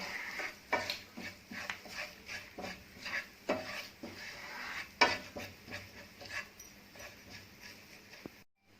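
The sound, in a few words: stirring soya 65 with spices in a pan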